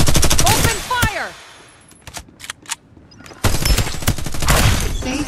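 Rapid automatic gunfire bursts in the video game Farlight 84. There is a loud sustained volley, a gap filled with scattered game effects, then another dense stream of shots. Synthetic game voice lines are faintly mixed in.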